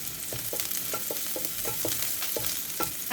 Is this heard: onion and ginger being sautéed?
yes